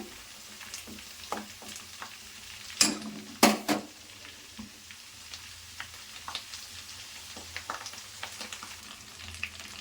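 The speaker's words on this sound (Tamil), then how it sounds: "இப்போ இந்த முருங்கைத்தலையில் போட்டு நம்ம நல்லா கிண்டிகிட்டு இருக்கிறோம்" Drumstick leaves crackle and sizzle in hot homemade cow's-milk ghee as a spoon stirs the pan, with a steady hiss and a few sharp spattering pops and utensil scrapes in the first few seconds.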